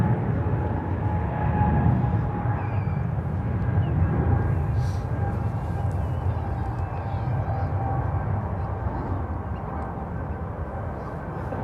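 An airliner takes off at San Francisco International Airport, a distant, steady low roar of jet engines that holds for the whole stretch with no talk over it.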